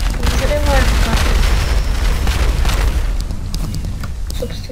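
Video-game explosions blowing up the map boom loudly, with a dense rumbling blast that holds steady and then slowly fades.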